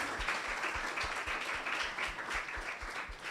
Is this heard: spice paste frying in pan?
no